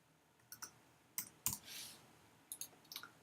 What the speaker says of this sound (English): I'm going to type in their first name.